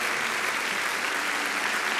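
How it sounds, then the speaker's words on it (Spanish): A congregation at a church service applauds steadily, a dense continuous wash of many hands clapping at moderate volume, with no voices standing out. "Otro aplauso a este caballero, a esta dama,"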